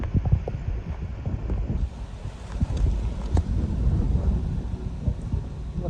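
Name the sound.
leftover wind from Hurricane Nicole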